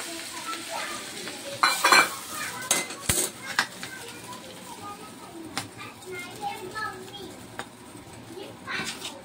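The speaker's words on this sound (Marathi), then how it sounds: "तर अशा प्रकारे आता आपण याच्यात तेल टाकून घेऊया." Heated oil poured into a pan of pickle, a close burst of sizzling followed by utensil clinks and stirring, with a voice talking over parts of it.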